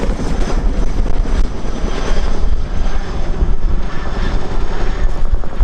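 Loud, steady roar of a very large helicopter in a flying display at the RIAT air show, with a dense rotor-and-engine rumble that holds throughout without a break.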